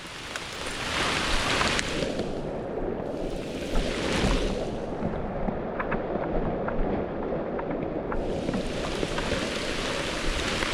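Knee-deep floodwater rushing across a road produces a loud, continuous broadband wash with churning surges throughout and no voices.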